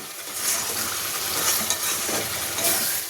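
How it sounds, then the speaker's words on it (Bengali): Mutton stir-fried for kosha mangsho in a pan of oil, with a steady loud sizzle and the spatula's continuous scraping and stirring throughout, and no talking. "আরও কিছুক্ষণ কষে নেবো মাংসটা।"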